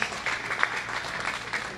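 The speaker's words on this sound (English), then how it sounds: "round of applause" Audience applause at a Triple Crown shootout title match event, a steady wash of clapping from a crowd, fairly distant and continuous.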